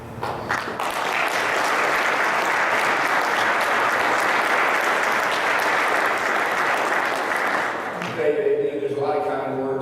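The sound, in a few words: audience applause at mayor's breakfast presentation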